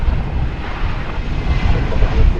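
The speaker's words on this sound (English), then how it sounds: "It's caught the tail end of Flight 1655 arriving from Phoenix in Airbus A321." An Airbus A321 arriving from Phoenix as Flight 1655 rumbles past at an airport, a steady low engine roar with some wind buffeting, fairly loud and continuous without voices.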